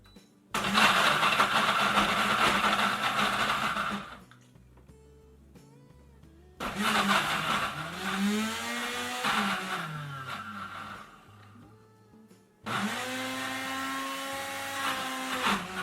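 An Ace Plus blender whirs through a peanut butter banana smoothie in three loud bursts. Each burst has a shifting motor whine as the contents churn, separated by quiet pauses.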